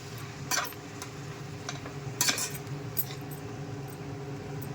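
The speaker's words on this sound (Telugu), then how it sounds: "ఇప్పుడు ఇలా కలిపేసుకుంటున్నాను." Tomatoes, onions, salt and turmeric are stirred in a pan, making faint, sparse clicks and scrapes of the spoon against the pan over a low steady hum.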